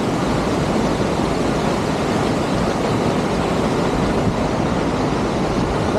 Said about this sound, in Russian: И в финале вас ждет вот такой вот шикарный,